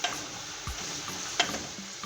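Seasoned potato fries, cut about a third of an inch thick, frying and being jostled in a pan: a constant close sizzle with occasional soft knocks and scrapes.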